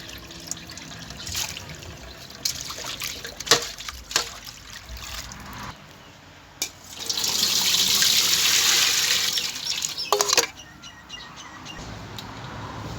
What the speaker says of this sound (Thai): เอาไปล้างหลายๆน้ำเลยจ้ะ